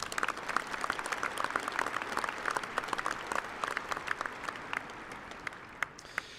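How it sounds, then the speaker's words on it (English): Sustained audience applause at a spring 2024 doctoral and master's commencement ceremony, a dense, steady patter of many hands clapping throughout with no voices on top. "How about another round of applause?"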